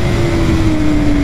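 A 2019 BMW S1000RR motorcycle engine running hard, giving a loud, sustained mechanical drone whose pitch holds steady and sags slightly over a brief moment, with no voices.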